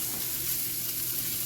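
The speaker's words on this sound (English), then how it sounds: "Got some sizzling going on there." Pieces of smoked sausage sizzle in olive oil in a skillet, a steady, close crackling hiss with no breaks or voices.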